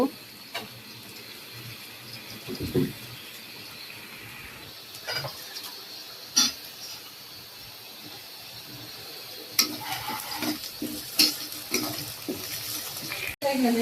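Fish sizzles as it fries in a pan on a home stove and is stirred with a utensil. Occasional scrapes and metallic clinks of cookware rise over a steady, moderately quiet frying hiss.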